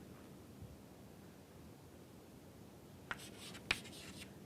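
Pen or marker writing during a lecture on automata, faint soft scratching over quiet room hiss, with a couple of brief sharper taps near the end.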